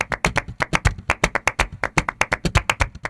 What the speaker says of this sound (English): Above all, the hand clapping and the footwork.